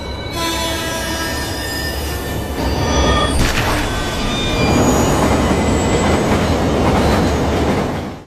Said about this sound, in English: The train was arriving.